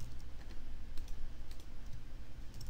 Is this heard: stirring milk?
no